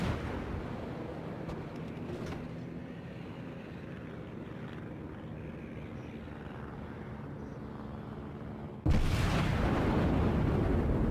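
A battleship's main guns fire in World of Warships, a New York Tier 5 battleship, heard as a steady engine and sea rumble broken near the end by a sudden loud, heavy roar of the salvo.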